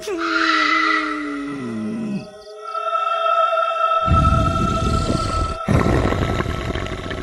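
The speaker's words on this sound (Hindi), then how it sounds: "उस कुएं से अजीब अजीब सी रोने की आवाज आती" An eerie, drawn-out crying wail sound effect for a haunted well in a witch horror tale, with gliding moaning tones, then a sudden drop, followed by layered hissing drones and a sharp cutoff.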